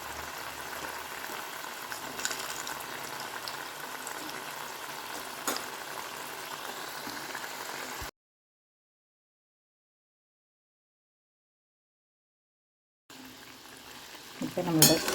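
Small uppu seedai dough balls fry in hot oil with a steady, soft bubbling sizzle. The sound cuts out for a few seconds of silence, then resumes and grows louder as the oil is stirred.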